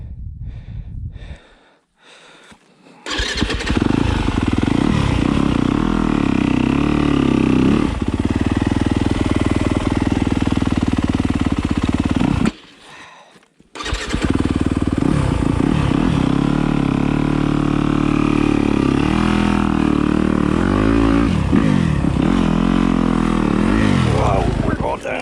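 A Yamaha YZ250 two-stroke enduro dirt bike is ridden on a hard, snowy trail, its engine loud and close, revving and straining in long sustained bursts with brief pauses, and heavy breathing heard around it.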